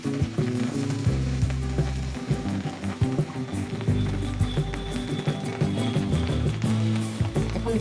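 Prawns fry in a generous amount of hot oil for a spicy prawn curry, a continuous close sizzle broken by irregular scraping and stirring knocks from a utensil.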